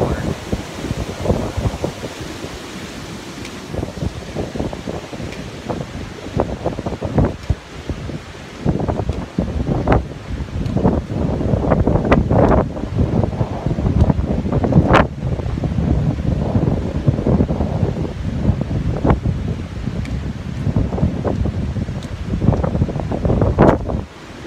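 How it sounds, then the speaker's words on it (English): Strong wind blowing off the water across a dam crossing, a steady roar with loud buffeting gusts against the microphone that rises and falls without a break for the whole stretch. "there is a lot of wind coming off that water"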